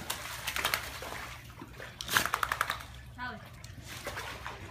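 A dog paddling in water gives repeated light splashes and sloshes in short bursts, with voices talking nearby over the water.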